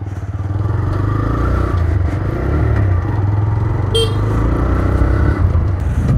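A motorcycle ridden on a road, its engine giving a steady, close, continuous rumble with a brief high clatter partway through and no talk.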